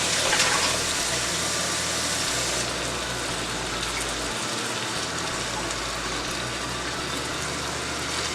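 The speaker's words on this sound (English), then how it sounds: "to that, I'm going to add about a cup of water" About a cup of water poured from a container into jarred tomato sauce for lasagna, a brief splash at the start, then a soft, steady wash of liquid sound close by.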